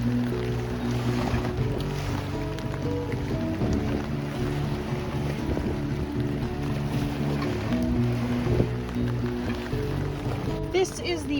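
Gusty wind and lapping waves along the Stanley Park seawall in Vancouver on a cold, rainy day, a continuous rushing roar with a person talking over it.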